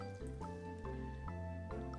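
Water is poured into flour, salt and sugar for homemade French bread dough, making soft, rhythmic glugs and drips that repeat about every half second, quiet and close.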